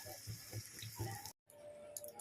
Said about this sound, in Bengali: জল দিয়ে দিলাম, আমি নর্মাল জলই দিলাম